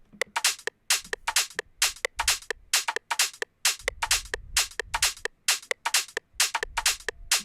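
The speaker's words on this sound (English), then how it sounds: "All the hats and the percussion together sound like this." A dry UK garage percussion loop of crisp, rapid hi-hat hits in a steady swung pattern, with occasional soft low thumps underneath.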